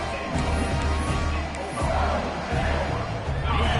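Home crowd roaring in a college football video game at a Mississippi State home game against Arizona State, a steady, loud stadium swell of cheering and babble with rumbling surges throughout.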